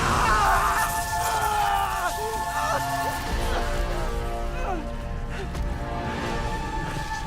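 A strained, pained male scream from Spider-Man being electrocuted in the Spider-Man PS4 video game, with wavering vocal cries rising and falling over a steady electric crackle and game sound, no other talk.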